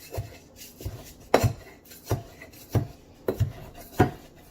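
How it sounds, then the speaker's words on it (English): Mint and sugar ground with a mortar and pestle, a series of about eight regular, evenly spaced pounding-and-grinding strokes, close and fairly quiet, with no voices. "you're going to take a pestle and you're just going to grind it, the mint and the sugar"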